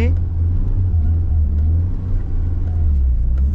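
A BMW E30 accelerating on a snowy road, heard from inside: a steady, loud, low engine drone that swells slightly, with a person talking over it.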